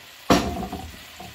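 Tomato and garlic hit a hot pan of onions with a sudden sizzling burst, then a sustained frying hiss with small clatters, close and brief, no talking.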